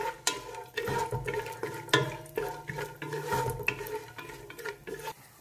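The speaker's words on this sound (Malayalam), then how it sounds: "അപ്പോൾ ഞാൻ കുറച്ച് അണ്ടിപ്പരിപ്പും ബദാമും ഒന്ന് വറുത്തെടുക്കുക അതിൽ" Cashews and almonds fry in hot ghee in a pan for banana halwa, with a close, busy sizzle and repeated scraping and clinking from a spatula stirring the nuts.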